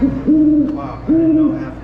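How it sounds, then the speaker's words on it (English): Two long, steady owl hoots from a push-button animal call exhibit at a Ripley's Believe It or Not museum, each a sustained, clear call with a brief gap between them, loud and close. "Oh, that's an owl."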